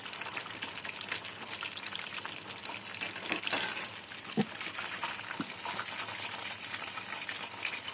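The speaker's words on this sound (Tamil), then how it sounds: "அதே மாதிரி காலிஃப்ளவரையும் எண்ணெயில் போட்டு காலிஃப்ளவர் சில்லி பொரிச்சிட்ருக்கோம்." Cauliflower chili pieces deep-frying in oil make a continuous, fairly faint hissing bubble, with a few soft knocks and pops partway through and no talking.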